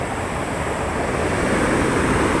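A close, loud and unbroken roar of water pours through Somasila dam on the Penna river, steady for the whole stretch with no talking.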